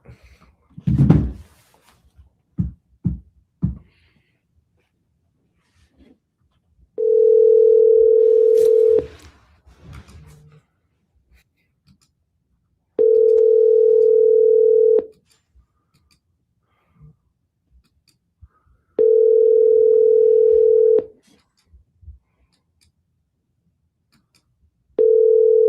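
A telephone ringback tone sounds in four evenly spaced two-second beeps, loud and clean, with some faint handling clicks and knocks at the start before the call is forwarded to voicemail.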